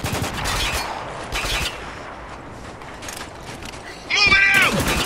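Gunfire in the Spec Ops: The Line video game, with bursts of rapid shots and a harsh mechanical clatter near the end, mixed with game noise.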